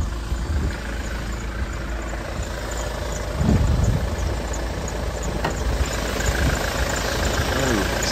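A Kia Sorento engine idles just after starting, giving a steady low hum with a faint rattle nearby, and it swells briefly partway through.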